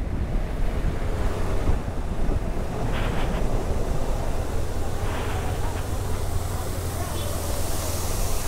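Rushing water from Malshej Ghat waterfalls in monsoon, a steady broadband roar loud and continuous with heavy wind buffeting the microphone, faint voices partly under it.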